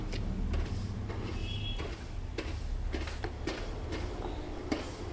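A brush scrubs dust and debris out of a sliding window track indoors, giving repeated short scratchy strokes at an irregular pace over a low steady background hum.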